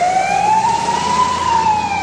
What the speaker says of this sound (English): On the way before I got back to the country club, there was an ambulance. So I pulled over for the ambulance